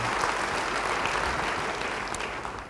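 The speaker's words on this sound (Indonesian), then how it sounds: "Yang mau beri tepuk tangan bagi dia." Church congregation applauding during a sermon, steady sustained clapping filling the room, fairly loud and continuous before easing slightly at the end.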